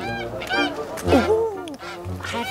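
A goose honks repeatedly up close, nasal calls in a quick uneven series with short gaps between them.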